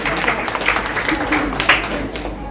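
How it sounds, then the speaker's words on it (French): Brief clapping from a gathering at a Christmas Eve event after a child recites a Bible verse, uneven individual claps over a low background hum. "Applaudissez pour elle"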